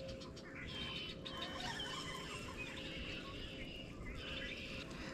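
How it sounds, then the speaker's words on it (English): Birds chirp and call outdoors by the water during spring fishing, heard over a steady rushing background of water or wind. "Birds are going nuts"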